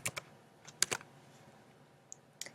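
Sparse, crisp clicks from typing on a computer keyboard, with short bursts of keystrokes separated by pauses in a quiet room.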